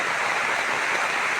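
Heavy rain roars down in a village during a downpour, with water rushing out of a pipe mouth, forming a dense, steady hiss with no break or voices.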